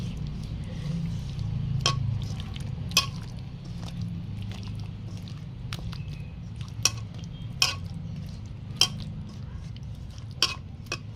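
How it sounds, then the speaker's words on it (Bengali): Rohu fish is mixed with spices by hand directly in a wok, giving soft wet squishing and stirring under a low background hum, punctuated by sharp clinks of metal against the pan. "সরাসরি কড়াইতেই মাখতে হবে, যেহেতু এটা কড়াইতেই রান্না হবে।"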